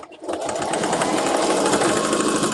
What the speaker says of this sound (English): Okay, so now I'm gonna sew.